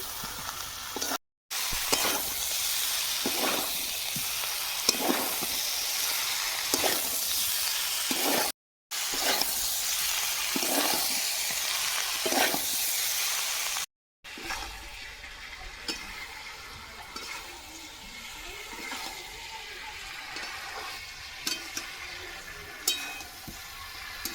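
Vegetables and potatoes for a vegetable biryani drop into a hot pan with a splash of water, sending up a loud, steady sizzle broken by brief cuts and faint stirring scrapes, with no voices.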